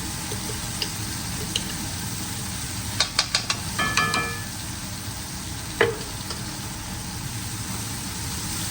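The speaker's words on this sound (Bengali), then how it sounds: "রসুন দিয়ে শুটকিটাকে ভাজবো" Dried fish fries with garlic paste in a pan, a faint, steady sizzle broken by a few sharp utensil clinks and scrapes around the middle.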